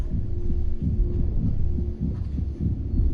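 A heartbeat from the video game What Remains of Edith Finch thumps in a steady, low rhythm over a constant hum, lasting about three seconds.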